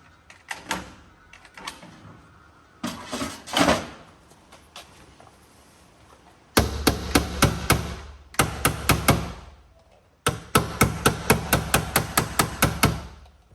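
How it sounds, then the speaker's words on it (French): A hammer taps on a Volkswagen Golf 4 door panel in bursts of sharp metallic knocks, first a few scattered blows and then fast runs of rhythmic taps, loud and close. "juste ici il a pris un coup, je vais mettre un petit coup de marteau."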